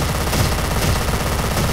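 Rapid sustained automatic fire from dual Mirror MP9 submachine guns in the Free Fire mobile game, a loud, dense, continuous rattle of shots with no pauses.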